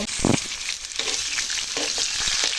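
Vegetables frying in hot oil with a cumin tempering for a Bengali curry, a loud steady sizzle and crackle close by, with a few stirring scrapes and knocks.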